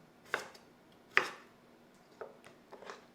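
A knife trimming the fibrous outer layer off broccoli stems on a cutting board, two sharp close chops followed by a few softer, quieter cuts in a quiet room.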